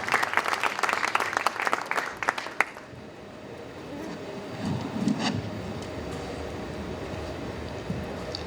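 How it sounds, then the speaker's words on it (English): At a tech conference, an audience applauds as guests take the stage, with close, sharp claps for a few seconds before the clapping fades into a low murmur of room noise. "let's give a warm round of big applause to our guests who are taking the stage now"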